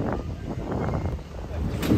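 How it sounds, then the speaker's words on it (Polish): Gusty wind buffets the microphone at a boat landing where small passenger boats set off, a steady low rumble swelling louder near the end, with no talk over it. "Wiatr zawiał"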